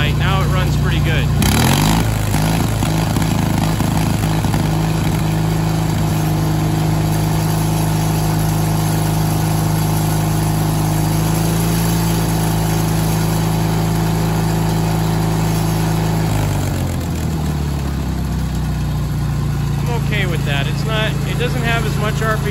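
Onan P220G twin-cylinder engine on a Sears GT18 garden tractor running loud and steady at a lowered throttle setting while mowing, a continuous close drone that shifts slightly in pitch near the end.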